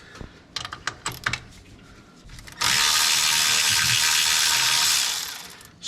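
Hand tools work on the steering pump of a 1974 Ford truck: a burst of sharp, irregular ratcheting clicks, then a loud, steady hiss that holds for a few seconds before fading. No one speaks.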